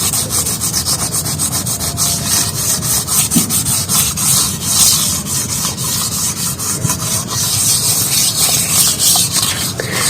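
Steady scrubbing and rubbing of an old metal lamp being cleaned, a continuous close abrasive scouring with no voices.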